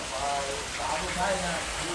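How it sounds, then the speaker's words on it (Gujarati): Dense rain pours steadily in a continuous wash, loud and close, with a voice talking faintly underneath. "આવો વરસાદ આ સિઝનમાં નથી પડ્યો એવો વરસાદ આજે પડે છે"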